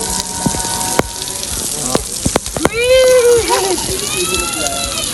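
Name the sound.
water shower splashing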